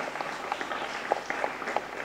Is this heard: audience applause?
yes